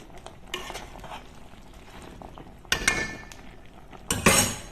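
Jute leaves being stirred into coconut milk in a pot for ginataang saluyot, with scraping and clinking of a utensil against the pot in a few bursts, the loudest near the end, over low background noise.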